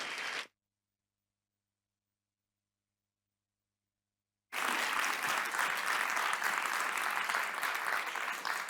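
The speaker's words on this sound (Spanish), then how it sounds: "Un aplauso para Blanca La Casa." A short burst of applause cuts off into several seconds of silence, then a crowd at a talk clapping to welcome a speaker claps steadily and loudly until the end.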